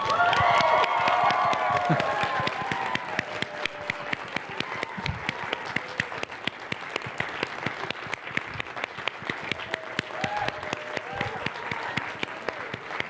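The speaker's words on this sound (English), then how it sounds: "No, not just a normal ovation, a standing ovation." A seminar audience on their feet gives a standing ovation, loud sustained clapping with cheering and shouts at first, then settling into steady rhythmic applause that carries on to the end.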